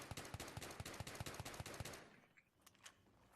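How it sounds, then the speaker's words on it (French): Rapid full-auto fire from an M417 rifle in Battlefield 3, about a dozen evenly spaced loud shots over two seconds, then stopping with a fading echo and faint distant game sounds. "Donc ça c'est la M417. Pas confondre avec la M400. Que au coup par coup."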